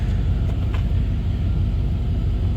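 A 1999 Dodge Durango SLT, back on the road after 14 years abandoned, drives with a steady low engine and road rumble close in the cabin, continuous and unbroken.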